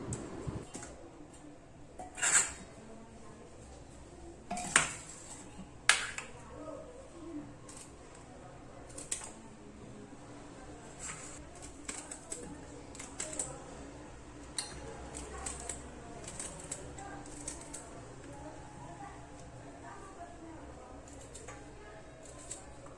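Bitter gourd sliced with a knife on a board, heard as scattered soft chopping taps and squishy cuts at an irregular pace, fairly faint and close, over low household background.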